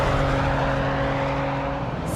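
A car accelerates flat out in fourth gear at 6,000 RPM near 100 mph, its engine a loud, steady high-revving drone with a constant pitch throughout, recorded from inside at close range.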